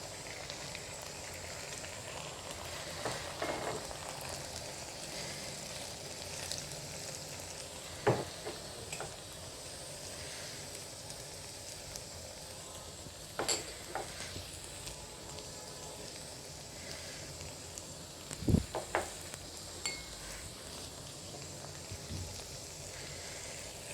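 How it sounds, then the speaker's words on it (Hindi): Onions and spices frying in the oil used earlier for the okra in bhindi masala, with a continuous soft sizzle and occasional scraping stirs of a spoon against the pan. "जिस ऑयल में हमने भिंडी फ्राई की थी उसी ऑयल में अब मैं प्याज को लाइट ब्राउन कर लूँगी।"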